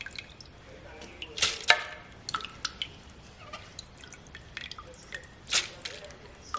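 Soaked idli rice is strained, with quiet dripping, squishing and trickling water in short bursts close by and faint background noise.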